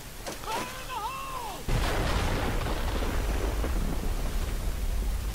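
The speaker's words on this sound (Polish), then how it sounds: "I wybuch." A sudden heavy boom erupts partway through and rolls into a sustained low rumble, following a brief whistling tone; an explosion in the war video game Company of Heroes, Omaha Beach mission.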